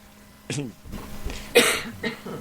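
A few short coughs and a throat clear from one person, close by, mixed with brief bits of speech.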